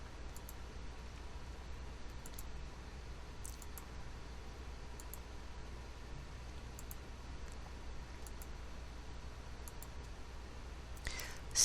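A computer mouse clicks sparsely through dates, faint single clicks at irregular intervals over a quiet, hissy room background.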